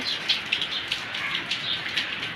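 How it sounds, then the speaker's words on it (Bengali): Rain falling steadily outside a house in Dhaka on a wet, overcast day, a soft continuous patter with scattered sharper drips, close and fairly faint, with no voices. "বৃষ্টির মধ্যে সুন্দর দেখেন পানি পড়তেছে"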